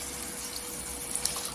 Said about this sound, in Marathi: मी पाणी टाकणार आहे जेवढं पाहिजे ते।